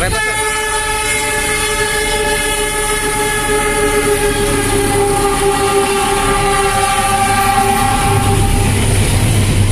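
An Argo Sindoro passenger train passes along the railway beside Jl. Bhayangkara in Cikarang, Bekasi, sounding a long, loud horn over the steady rumble and clatter of its wagons. It stays close and constant throughout, and no one speaks.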